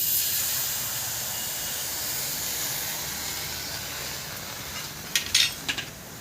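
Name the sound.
a little water poured into a hot kadai, hissing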